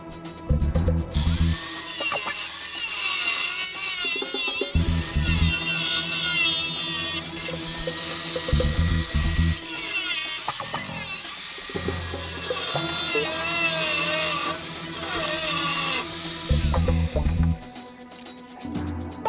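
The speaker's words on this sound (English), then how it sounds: "so just put it in the grinder" Power grinder working on a rusty steel bumper of a Fiat Ducato camper van, loud whining bursts of varying pitch with harsh metallic grinding, separated by brief pauses and a low motor hum.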